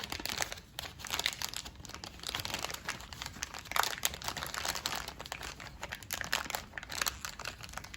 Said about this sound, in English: put the tip into the icing bag, all the way down